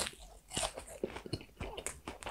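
Crunchy bites and chewing on an air-fried pork loin cutlet with a crisp breaded coating, a series of close, irregular crackling crunches with no talk.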